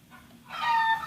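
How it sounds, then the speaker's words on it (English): Chickens on a farm, with a rooster's strained crowing call rising loud and close after a quiet opening, layered with clucking; no talk. "when they do their full cock-a-bloody-doodle-doo, they strain their little bodies"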